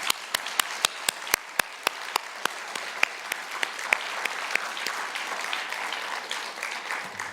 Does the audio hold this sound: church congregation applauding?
yes